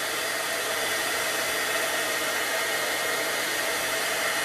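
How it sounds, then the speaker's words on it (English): A heat tool warms whitewash on paper, blowing a steady, close rush of hot air with a broad hiss that holds level from start to finish, with no voices. "Heat tool. That's what it is"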